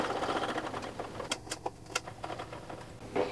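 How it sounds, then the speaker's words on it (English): A sewing machine stitches slowly across a measuring tape used as a closure on a handmade glasses case, its needle running in a steady close whir with a few louder clicks partway through. "So go really slow here and stitch over."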